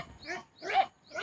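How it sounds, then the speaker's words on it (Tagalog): Goats on a small farm calling out, three rough bleating cries in a row, close and moderately loud with short pauses between them. "Yan, mga kambing."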